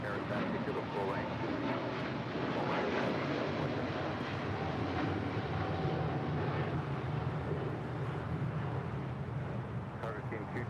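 An airliner at LAX, a steady engine roar that holds throughout, heard under air traffic control radio talk.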